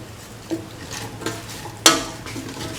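Cauliflower, potato and coconut milk rice stirred in a pan with a spoon, soft scraping and gentle sizzling throughout, with a few light clinks and one sharper knock against the pan near the end.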